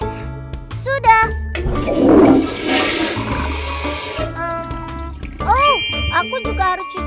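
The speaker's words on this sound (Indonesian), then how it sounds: "Siram toilet." A toilet flushes with a loud rushing surge of water, set among cheerful children's-song music with chimes and a voice singing over it.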